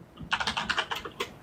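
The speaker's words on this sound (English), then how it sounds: "I heard you type on your keyboard, by the way." Rapid bursts of keystrokes on a computer keyboard, a quick run of clicks followed by a pause and one more tap, fairly close and alone without talk.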